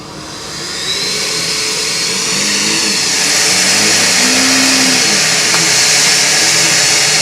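A high-pitched electric whine from an electric Formula Student race car accelerating at an acceleration event builds steadily and stays loud, like a powerful vacuum racing past, with a broad rushing roar underneath.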